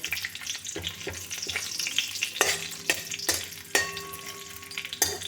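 Bay leaves, dried red chillies and spices fry together in a pan, a soft continuous sizzle punctuated by irregular metallic clinks and scrapes of a stirring spatula, close up and quiet.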